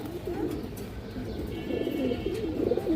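Domestic pigeons in a loft, including a matched breeding pair, cooing in low, repeated throaty phrases close by, overlapping steadily throughout with faint background noise.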